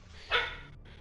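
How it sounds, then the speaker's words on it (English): A dog gives one short, sharp bark close by, standing out briefly over a low background hum with no one talking. "My dog."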